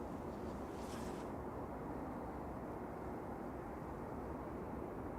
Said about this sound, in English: the Etihad 787-9 is making its way down to the end of 2-3 right